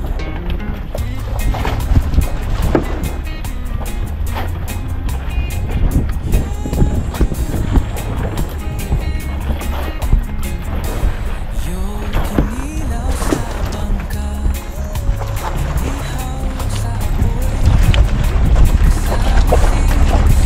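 Motorized wooden outrigger boat (bangka) running steadily on open water in the Philippines, a loud continuous engine drone with wave and hull noise, and some voices faintly under it.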